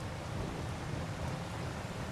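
Rain falls steadily in Farming Simulator 25 at a rural homestead, a soft, even, continuous hiss of rain with a low rumble beneath, quiet and unbroken throughout.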